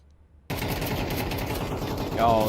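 Automatic gunfire in a competitive tactical shooter esports match, a sudden sustained burst of rapid shots that starts abruptly and carries on loud and dense to the end.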